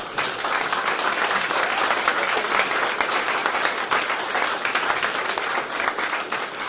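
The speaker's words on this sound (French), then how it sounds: "c'est pour ça, mesdames et messieurs, de les applaudir" Steady, dense applause from an audience at a town hall New Year's greetings ceremony, many hands clapping at an even level throughout with no voices over it.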